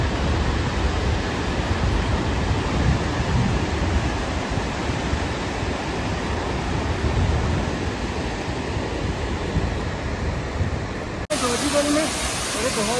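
The Lidder river rushes loudly and steadily near Chandanwadi on the Amarnath Yatra route, a dense continuous roar of flowing water that cuts off abruptly near the end.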